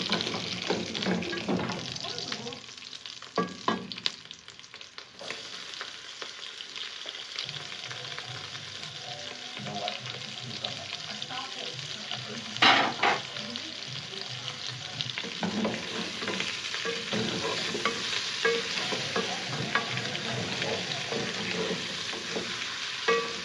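Onions go into a pan with browned kienyeji chicken and fry with a continuous, bright sizzle, with intermittent stirring and scraping over the long stretch and a few louder clatters.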